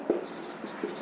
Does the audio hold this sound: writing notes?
yes